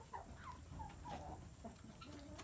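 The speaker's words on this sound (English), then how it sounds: "We have chickens everywhere." Chickens cluck softly and intermittently at a farm among molting hens, Cornish cross birds and guineas, a faint, fairly distant scatter of short clucks over low background hum.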